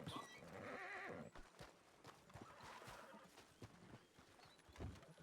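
In a Western ranch roleplay video game, a horse gives a long whinny at the start, followed by irregular hoof clops and snorts at moderate distance, with no speech.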